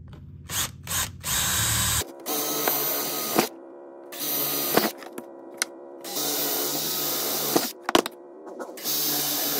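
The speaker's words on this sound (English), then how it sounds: "we're going to go ahead and drill those." A power drill whirs in several separate bursts of a second or two each, drilling holes for a radio mount, starting and stopping close by with short pauses between.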